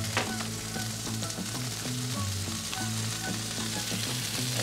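Onions fry on a hot Blackstone griddle for a patty melt, giving a loud, continuous close-up sizzle with a low rumbling hum beneath and occasional small crackles, with no voices.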